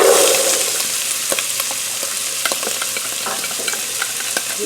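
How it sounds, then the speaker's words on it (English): Carrot, celery and onions sauteing in olive oil sizzle steadily in a pan, with a brief louder hiss at the start and scattered scraping stirs over the constant frying crackle. "It's going to take about 6 minutes to saute these vegetables down."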